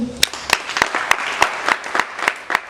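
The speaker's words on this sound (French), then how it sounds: "A hand of applause for you." Scattered clapping from a small audience at a cultural holiday event, with several distinct sharp claps standing out in an uneven rhythm over a softer patter.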